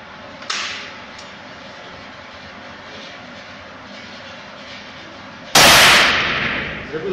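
Single loud gunshot from one round fired at an outdoor firing range during individual weapons-handling practice, a sharp crack that rings out and decays over a steady background hiss, with a faint earlier click.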